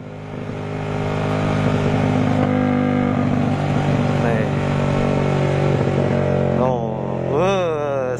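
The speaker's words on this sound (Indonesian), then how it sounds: "Asik suara ketika engine brake-nya" A motorcycle fitted with a CLD Monster exhaust drones loudly as it coasts under engine braking, a steady rumbling tone with crackles, while a rider's voice talks over it near the end.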